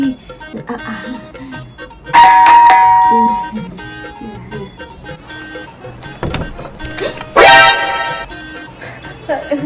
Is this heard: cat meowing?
no